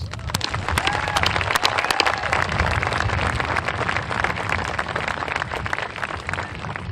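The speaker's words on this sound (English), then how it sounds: "Please join me in applauding our men and women in the service for the freedoms that we also enjoy." A graduation crowd gives service members sustained applause, a dense, even wash of many hands clapping at once that holds steady throughout.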